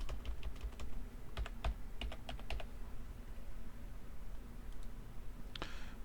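Typing on a computer keyboard during a Minecraft modpack session. Key clicks come in quick bursts and scattered single taps, faint and close, with no talk.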